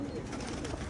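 Pigeon cooing close by, a soft low murmuring coo over steady background noise, lasting about a second.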